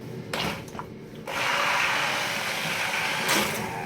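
An electric food blender whirs loudly and steadily while blending tomato sauce with garlic and salt, starting after a few short clicks and bumps, then holding a continuous close motor drone.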